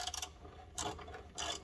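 A ratchet clicks as anti-roll bar links come undone on a Porsche 718 Boxster S, with two or three quick bursts of ratcheting set apart by short pauses, close and fairly quiet.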